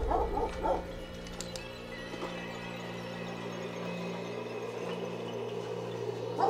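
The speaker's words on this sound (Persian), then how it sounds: "سگا هم اینجا خیلی سر صدا میکنن" Dogs barking and yipping at an old abandoned bathhouse, a few sharp yelps near the start, then a steady low hum and faint distant activity fill the rest.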